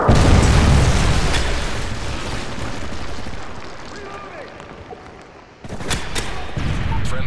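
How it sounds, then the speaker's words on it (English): A Predator missile airstrike in Modern Warfare 3 hits with a loud, close explosion, rumbles down over several seconds, then a second heavy blast slams in near the end. "Friendly Predator missile inbound."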